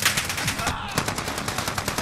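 Rapid automatic gunfire in Call of Duty: Modern Warfare, dense, evenly spaced shots in continuous bursts with a brief pause, loud and close, no talking over it.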